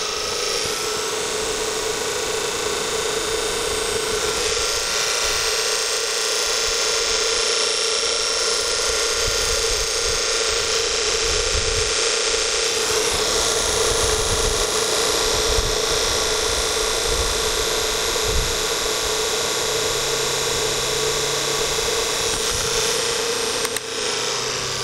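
A Warp9 motor starts up and runs with a steady, loud, high whine and hum that holds for the whole stretch, over faint rattling and mechanical knocks underneath.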